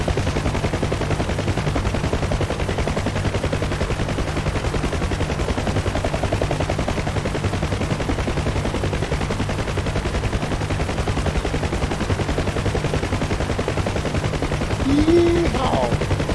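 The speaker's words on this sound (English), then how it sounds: "there's another one shooting at me or something there" Rapid automatic gunfire aimed at a helicopter in a video game, a dense continuous rattle of bursts lasting throughout, loud and close, with engine and rotor noise underneath.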